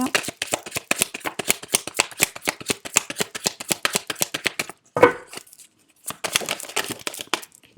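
Tarot cards are shuffled for a love reading in a fast run of crisp riffling flicks that stops for a moment near the five-second mark and then resumes, close and loud with no voice over it.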